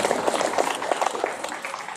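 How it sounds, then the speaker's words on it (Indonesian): An audience at the closing ceremony of a madrasah sports and arts festival breaks into steady, lively applause, many hands clapping together close by at an even level throughout. "Kita beri aplaus."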